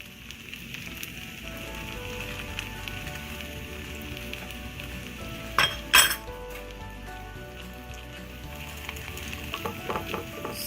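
Chicken strips sizzle and brown in a pan with a steady, moderately loud crackling hiss throughout, broken by a couple of brief clinks of a utensil near the middle.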